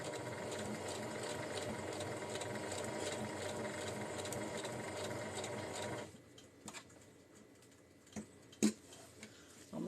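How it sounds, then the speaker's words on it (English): A sewing machine stitches a lining into a granny square tote, running in a steady, continuous hum for about six seconds before stopping, followed by quiet handling clicks and a few taps. "sit here and watch me stitch it in."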